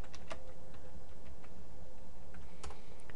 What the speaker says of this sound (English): let me type it again